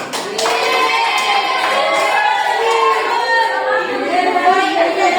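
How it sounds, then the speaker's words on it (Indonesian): Schoolchildren in a primary classroom applaud a classmate in a micro-teaching session, a steady close patter of claps mixed with lively kids' voices talking over it. "Tepuk tangan untuk Jen."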